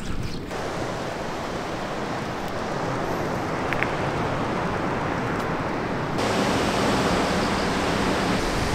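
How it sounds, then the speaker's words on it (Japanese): Strong waves surge along the rocky shore below Inubosaki lighthouse on a foggy day, a steady loud wash of surf and spray that swells slightly louder toward the end, with no voices. "今ちょっと海岸沿いのところにちょっと降りてきたんですけど、波が結構強いですね。"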